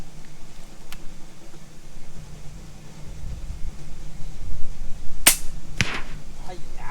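An FX Impact M3 air rifle fired at a soda can at long range, one sharp crack near the end followed by a second softer snap over steady outdoor background noise.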